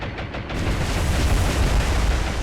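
Bombs exploding against a ship in the naval video game War on the Sea, a loud, sustained rumbling blast with a broad roar.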